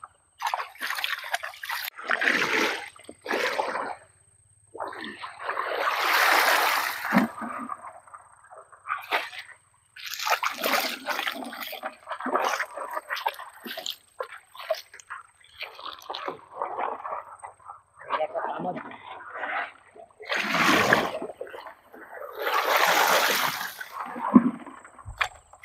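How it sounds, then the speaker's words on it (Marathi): Mud-caked crabs are sloshed and rinsed by hand in water, making irregular bursts of close splashing and dripping separated by short quiet gaps. "ह्याच पाण्यात आम्ही धुतो."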